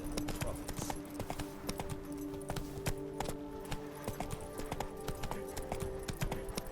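Roach the horse trots through Beauclair in The Witcher 3, hooves clip-clopping in a quick, steady rhythm, fairly quiet and close throughout.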